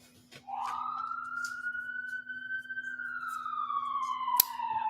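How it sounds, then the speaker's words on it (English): An emergency vehicle siren wails in the background, one long rising and slowly falling tone, moderately faint and steady, with no talk over it. "Always some sirens going on in the background here."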